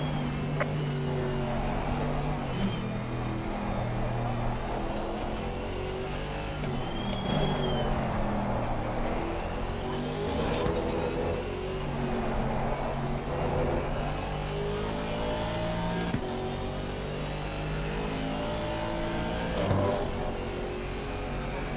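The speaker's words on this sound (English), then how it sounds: "Got this GT3 breathing down our necks. Look at this, look at this. The faster car is approaching." A GT3 race car in Assetto Corsa Competizione approaches and passes, its engine revving and climbing through the gears over the steady drone of the player's own car, loud and continuous with no talking.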